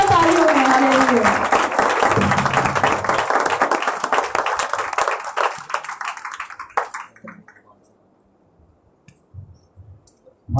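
Loud crowd applause at a Pentecost church service, with dense clapping that gradually fades out over several seconds, leaving near silence with a few scattered claps.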